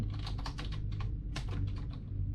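Rapid, steady typing on a computer keyboard, a close run of many keystrokes with a short pause partway through and no voices.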